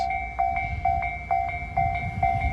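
A Japanese railroad crossing's alarm rings in steady, rapid repeating dings, close and clear, over a faint low rumble of rail traffic.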